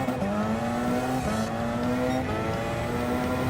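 A race car with worn soft rear tyres spins out at Le Mans in Gran Turismo 7. Loud, continuous tyre squeal rides over a droning engine note that wavers in pitch throughout.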